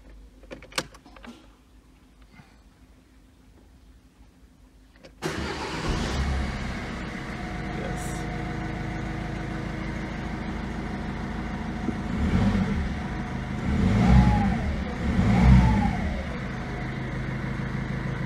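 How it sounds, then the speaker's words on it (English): Car engine cranking and catching after an EGR delete, settling into a steady idle and then revving up and back down twice, close and loud, following several seconds of near silence with faint clicks. "Now we're gonna find out if the car will start or not"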